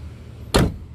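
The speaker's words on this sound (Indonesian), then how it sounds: "Bukaan tutup pintunya." A single short, sharp thunk from the door of a 1995 Toyota Starlet, close and loud, over a quiet background.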